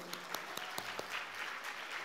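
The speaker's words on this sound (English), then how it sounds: "So can we please give them a huge round of applause?" Audience applause for the event sponsors at the British Bangladeshi Who's Who 2024 gala, steady clapping in a large room with a few sharp claps standing out, distant and moderately quiet.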